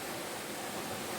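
A waterfall pours in a steady, dense broadband rush, constant and unbroken throughout.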